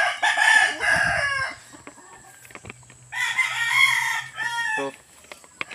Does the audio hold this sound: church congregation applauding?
no